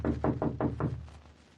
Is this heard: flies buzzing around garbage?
no